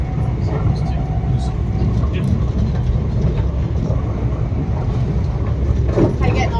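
Train travel in Scotland, a loud continuous low rumble and rattle of the carriage in motion with faint clatter, under occasional talking.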